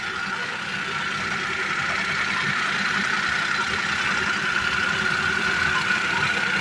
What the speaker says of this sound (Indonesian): Mesin halus.